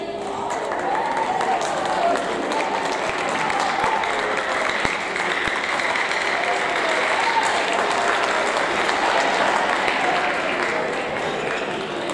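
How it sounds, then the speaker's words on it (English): School audience at a 7th grade awards ceremony giving a sustained round of applause, steady, full clapping filling the room throughout without a break. "One more round of applause, please."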